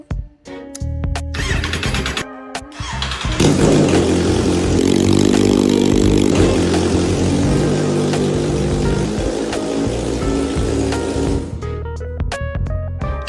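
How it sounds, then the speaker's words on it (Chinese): A restored Kawasaki heavy motorcycle, bought as scrap, cranks over, catches and roars into a loud sustained idle and rev, after some clanking handling noises, then cuts back to knocks and taps. "现在我要给它再次的启动"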